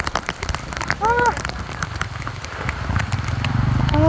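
Heavy rain patters densely on a surface, with a brief voice-like tone early on and the downpour growing louder toward the end.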